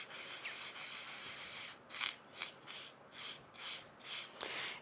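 Rub It Scrub It product being worked in a light swirling motion over a metal craft die, with soft, rhythmic rasping strokes repeating steadily up close over a faint hiss.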